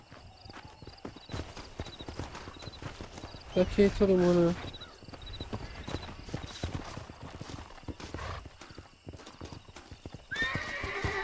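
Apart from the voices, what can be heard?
horse hooves and neighing in Red Dead Redemption video game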